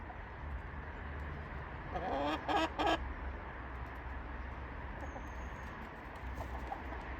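Garden chickens cluck and coo softly amid a faint outdoor hum, with a brief burst of louder clucking around the middle and otherwise quiet, scattered bird sounds.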